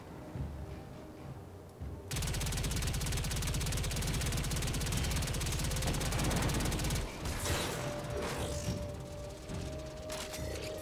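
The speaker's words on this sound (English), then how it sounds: "Damn it, I'm taking fire from behind!" Warframe gunfire rattles in a dense, continuous burst of rapid shots for about five seconds, loud and close, then breaks into scattered lighter impacts and game effects.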